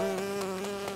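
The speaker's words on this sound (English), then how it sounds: "Oh no, it's a bee!" A bee buzzes in a cartoon, a loud, steady droning hum with a rich harmonic tone that pulses slightly as it hovers close by, alone without talk.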